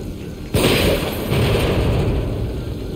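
A single loud gunshot in the survival horror game The Evil Within cracks out suddenly near the start, followed by a rumbling boom and a sustained heavy roar that lingers without speech.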